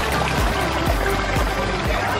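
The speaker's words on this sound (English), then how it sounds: "Here's the stream that goes through all the way down to the waterfall." Shallow backyard stream, low on water, trickling steadily toward a small garden waterfall below a pond; a continuous close, even babble of running water with faint low thumps.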